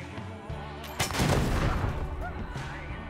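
Gunfire erupts in a Wasteland 3 combat round: a sharp, loud blast about a second in, then a rough burst of shots that fades under steady game music.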